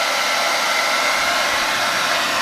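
A hair dryer runs on its high setting during a wheel install on a BMW E46 ZHP wagon, giving a loud, constant, close whoosh with no break and no talk over it.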